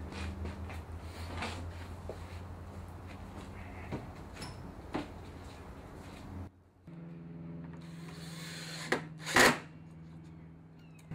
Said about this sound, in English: So I'm going to go ahead and screw those together.